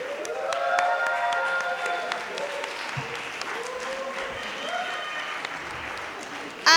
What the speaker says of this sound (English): Can we give them a final round of applause?